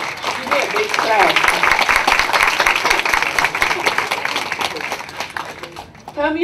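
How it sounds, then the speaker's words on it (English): An audience at a breast cancer survivor's talk claps in a big round of applause, dense and loud for several seconds before tapering off, with voices rising briefly at the end. "Give me a big clap."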